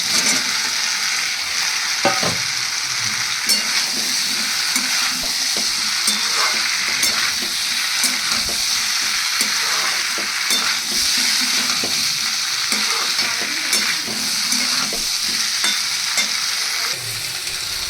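Spices fry in a hot pan while a spoon scrapes and stirs them in repeated strokes over a constant sizzle, with no talking.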